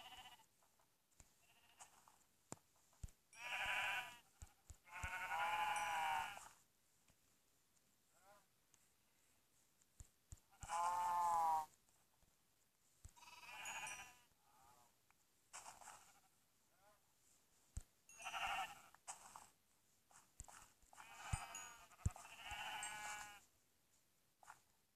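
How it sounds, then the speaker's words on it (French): Repeated sheep bleats from Minecraft livestock on a survival farm, several loud calls spread across the stretch with short clicky game sounds between them and a voice talking faintly at times. "Je pense que je vais tuer un peu de moutons parce qu'il commence à en avoir trop."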